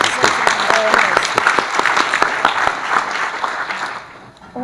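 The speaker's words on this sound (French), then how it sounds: "Petit applaudissement, je pense quand même." Brief applause from an audience at a panel debate, individual claps distinct and loud, with voices speaking over it before the clapping fades toward the end.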